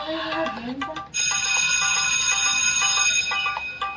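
A mobile phone rings with a loud, steady electronic ringtone that cuts in and holds, following a brief moment of voices and movement indoors.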